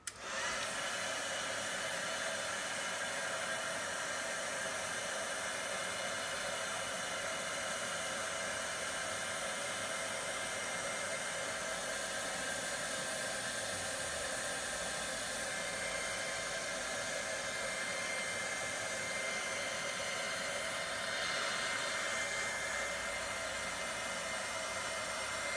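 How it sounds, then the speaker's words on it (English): A craft heat tool blows steadily while heat-setting embossing on a Christmas card, a constant whooshing fan roar that runs unbroken and close for the whole stretch with no talking. "Okay, so let's heat set this."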